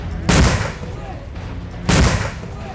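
Two sharp, loud gunshots about a second and a half apart, each a broadband crack with a short rumbling tail, over steady background noise, during a clash between Assam and Mizoram police.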